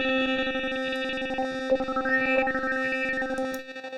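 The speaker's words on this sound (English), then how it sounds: "an interesting sound starts to emerge as we're blending this filter with the reverb" Heavily processed WaveStepFX tones with a filter blended into a time-traveling reverb, sustained pitched layers with a sweeping, gliding upper line and a distorted, chorus-like shimmer that swells and then fades.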